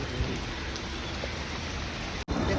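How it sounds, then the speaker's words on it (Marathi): Steady, dense rainfall hisses continuously, with a brief dropout near the end before the downpour resumes. "पाऊस पडतोय खूप"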